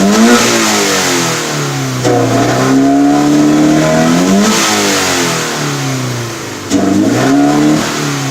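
A Scion FR-S engine fitted with an eBay intake revs up in several throttle blips, the note rising and falling in repeated swells. Each rev sounds loud and close, and there is no talk.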